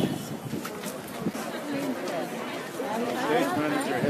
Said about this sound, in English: we got a nice crowd out here today